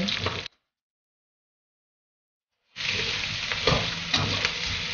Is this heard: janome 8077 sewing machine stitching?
no